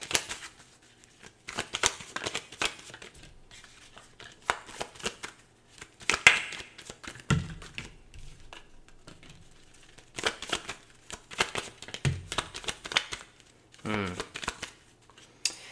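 Oracle cards shuffled close up in repeated riffling bursts of papery flicking, with soft taps and pauses between rounds and a person talking intermittently over it.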